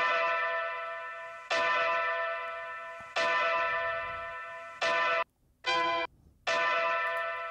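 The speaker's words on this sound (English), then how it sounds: "I just looked for like horn samples and I made them sound old" Sampled horns processed to sound old, heard as a run of bright, bell-like sustained blasts that decay between hits, ending in a few short stabs, moderately loud with no voices.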